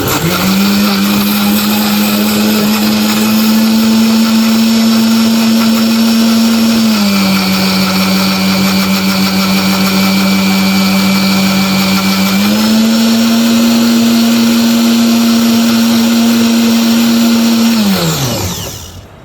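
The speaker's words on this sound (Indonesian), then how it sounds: "Kemudian kita blender si telurnya. Kita blender ya teman-teman." Salted egg yolks being puréed in a kitchen blender, a loud steady motor whine that dips in pitch midway then rises again before spinning down at the end, with no talking.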